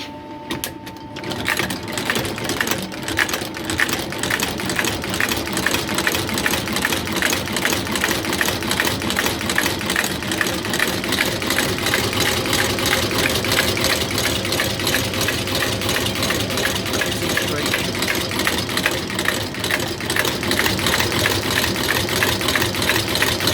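A machine stitching a Solovair sole onto a Dr Martens Felicity boot, a continuous fast mechanical chatter of needle strokes, steady and close, running without pause and with no voices.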